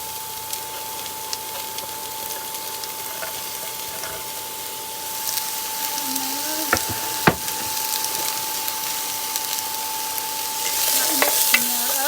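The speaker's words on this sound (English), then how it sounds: "Mixing that up." Onion, peppers and carrots frying in a pan, a steady sizzle and hiss with a few scraping stirs of a utensil mid-way and near the end, loud and close with no talking.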